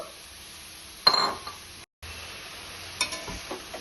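Fried potatoes tipped into a pot of sonamoog dal with ash gourd and stirred, giving a sudden scrape and clatter, a brief break, then softer spoon clinks and stirring, fairly close.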